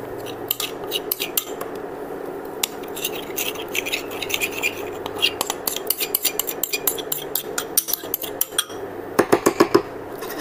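A lemon cake mixture with milk is stirred in a pan with a utensil, giving repeated close metallic scrapes and clinks against the pan that quicken toward the end, with no talking.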